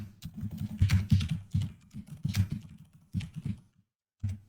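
Rapid keyboard typing of shortcut key combinations on a computer keyboard, in short bursts of clicks with brief pauses between groups of keystrokes, close and moderately loud.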